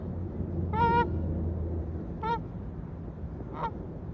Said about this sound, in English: like in the far distance, like right over here, that's just a patch of birds.